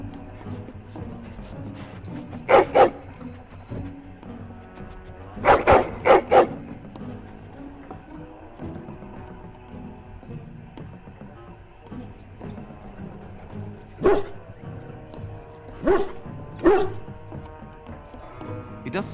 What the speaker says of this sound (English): Get the dog out and keep him away,